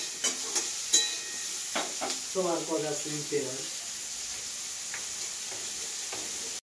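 Eggplant slices fry in oil with a pinch of turmeric, giving a constant close sizzling hiss that runs the whole time beneath a woman's brief speech.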